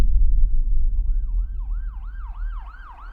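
An ambulance siren wails in a rapid rising-and-falling pattern, growing louder over a low rumbling engine and traffic background.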